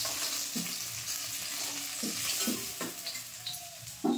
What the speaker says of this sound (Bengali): বাকি যে মাছগুলো আছে একইভাবে ভেজে নেব।